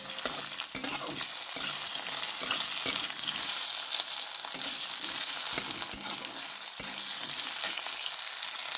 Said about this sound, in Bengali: প্রথমে আলুগুলোকে একটু ভাজা ভাজা করে নেবো